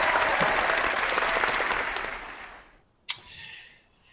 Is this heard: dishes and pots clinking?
no